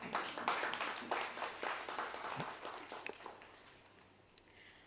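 An audience at a university launch event applauds with a burst of many hands clapping, loud at first and then thinning out and tapering to scattered claps.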